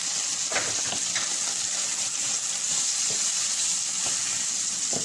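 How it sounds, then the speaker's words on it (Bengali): Shrimp sizzles steadily in a hot pan with salt, cumin, turmeric and chilli, a dense, close frying hiss with faint stirring clicks and no voices. "চিংড়ি মাছটা দিলাম, লবণ আর এই যে জিরা একসাথে দিয়ে দিলাম, হলুদ, মরিচ আর জিরা।"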